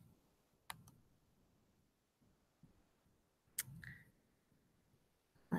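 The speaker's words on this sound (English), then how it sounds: "So if I click share," A few isolated computer mouse clicks while sharing a screen in the Seesaw app, heard as faint, sharp, near ticks spaced seconds apart in a quiet room, with no talking.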